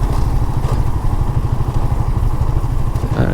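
A motorcycle rides along a rough, river-eroded rural road on a remote char in Sonagazi, its engine a steady low pulsing drone close by, with faint clatter and thuds from the uneven surface.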